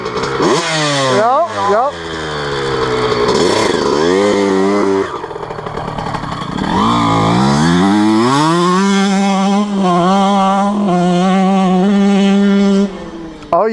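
A dirt bike engine is held at full throttle, its loud, close motor note rising and falling through long sweeps, with a voice briefly speaking over it.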